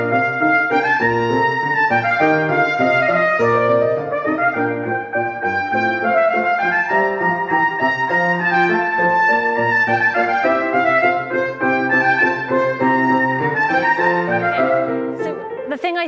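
A trumpet plays a continuous, sustained melodic line at a masterclass, with legato phrases held steadily at a moderate level and no talking over it.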